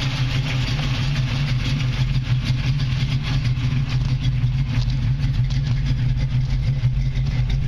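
A 1978 Chevrolet Camaro LT with a V8 350 idles steadily, a loud, even low rumble with a fine lumpy pulse and no revving, heard alone throughout.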